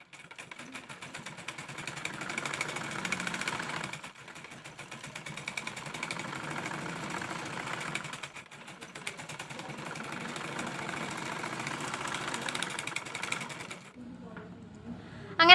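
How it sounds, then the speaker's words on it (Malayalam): A domestic sewing machine stitches the pleated top of a nighty, giving a fast, even mechanical whirr in long runs broken by short stops. It sounds close and fairly loud, with a sharp clatter near the end. "ഇനി അടുത്തായിട്ട് നമുക്ക് ഈ ഒരു മുകൾ ഭാഗം ഒന്ന് പതിച്ച് സ്റ്റിച്ച് ചെയ്ത് കൊടുക്കാം കേട്ടോ."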